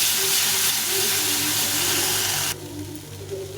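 Spice-paste water poured into a hot curry pan for a fish dish sets off a loud, dense hissing sizzle that drops sharply partway through and settles into a quieter, steady simmer.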